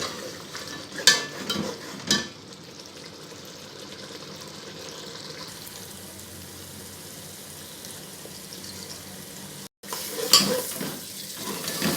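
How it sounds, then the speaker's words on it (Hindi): Tomato masala for kaleji sizzles and gets stirred over a high flame, with a steady frying hiss throughout and a few scraping, clattering bursts of a spoon against the pan near the start and end. "इसे हाई फ्लेम पे भूनते हैं"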